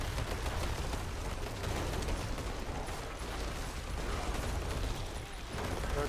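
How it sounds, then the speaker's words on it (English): Rapid gunfire in a zombie shooting video game: a dense, continuous clatter of shots and mechanical noise that stays loud and busy for the whole stretch. "Ti puca neko desno"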